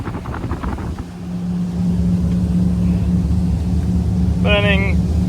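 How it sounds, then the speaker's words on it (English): Engines of a Windy 39 Camira motor yacht throttling up: a steady low engine drone that rises and grows louder after the first second and holds under wind noise, with someone talking over it and a brief tonal sound near the end. "It's a Windy 39 Camira. There we go. Throttling up."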